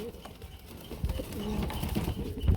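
Pigeons, including a ten-feather complete young bird, cooing softly in a pigeon farm being sold at wholesale, with low rolling coos building over the brief stretch alongside faint talking nearby.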